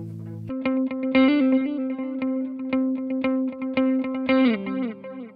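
Electric guitar through a Line 6 POD Go with a dotted-eighth delay, each pick repeated in a steady echoing pulse over a sustained low note, loud and close.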